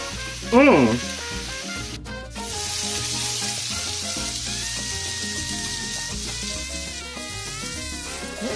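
A skirt steak sizzles and crackles steadily in a hot pan, with a brief clatter near the start and no talking.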